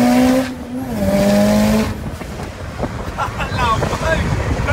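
Mitsubishi Lancer Evolution MR IX accelerating hard, engine pitch climbing through gears near the microphone with heavy wind buffeting, then rough rumbling and a further surge of revs.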